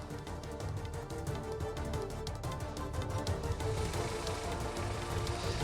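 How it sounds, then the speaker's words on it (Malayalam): Heavy monsoon rain pouring over a riverside search and rescue site, a dense, steady hiss of drops striking surfaces with scattered sharper patters, at moderate level and without speech. "ഈ മഴ പ്രതികൂലമായി നിൽക്കുന്നത് വലിയ വെല്ലുവിളിയാണ്."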